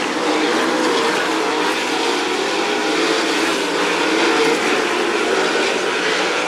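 Sprint cars roar down the back straightaway in a late-lap C-main race, a dense, continuous engine howl filling the track from start to finish with no talk over it.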